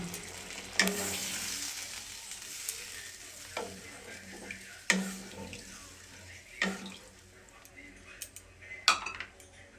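Water is poured into a pan of fried potatoes and spices while cooking a light fish curry, giving a running, splashing hiss with several sharp clinks and sizzles standing out over steady kitchen noise.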